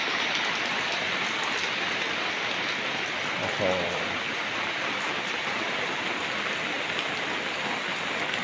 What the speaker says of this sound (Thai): วันนี้ฝนตกนะครับ